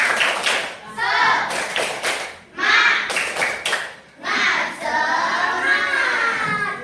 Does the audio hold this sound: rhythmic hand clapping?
yes